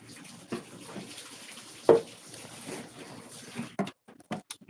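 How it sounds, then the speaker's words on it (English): Hands washed under a running kitchen tap, with a soft continuous stream of water, splashing and rubbing, and a sharper splash partway through, heard close by in a quiet room. "I'm going to wash my hands a little bit more."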